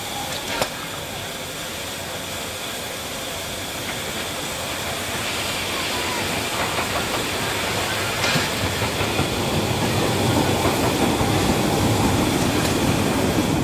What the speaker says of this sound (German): Der Gegenzug aus Kühlungsborn rollt hier vorbei an der evangelischen Waldkirche